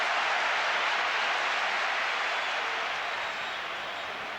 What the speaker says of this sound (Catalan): Aplaudeix al Camp Nou.